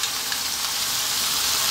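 Ground beef and onion fry in a pan over fairly lively heat, giving a steady, dense sizzle that holds evenly throughout at close range, with no voices.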